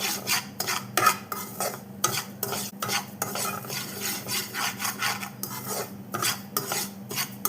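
Dry rava semolina is stirred and roasted in a pan for kesari, a steady rhythmic scraping and rasping of the spoon through the grains, close and fairly quiet, with no talking.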